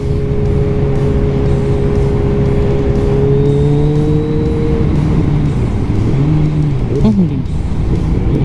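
A motorcycle nicknamed THEBEAST runs along a road at night, its engine droning loudly and steadily with pitch shifts as it changes speed, wind rushing over the microphone throughout.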